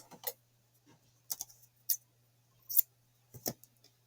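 Scissors snip yarn tails on a crochet slouch hat, giving a handful of crisp, close, isolated clicks spaced irregularly over near silence.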